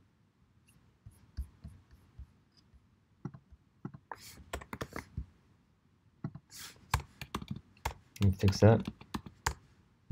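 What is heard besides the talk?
typing on a computer keyboard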